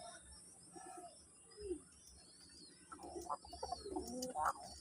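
Red and sky-blue Golla pigeons cooing near a Manikganj home, soft throaty coos and a few chirps that swell louder toward the end over a quiet background hum.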